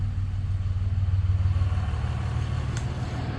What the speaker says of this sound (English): Sorry, my neighbor's loud truck.